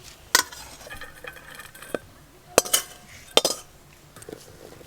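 Metal spatula scraping and clinking against a wok as fried kalai greens are turned out, a few sharp close clanks spaced irregularly over faint background noise.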